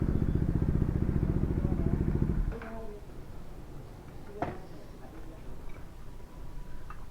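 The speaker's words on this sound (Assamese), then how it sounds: "তো এক্সজষ্টটো ইমান লাউড নহয়, বেছি হয় অলপ।" A modified D400 motorcycle exhaust idles loud and close with a steady low rumble for a few seconds, then cuts to quieter background clatter and a few sharp ticks.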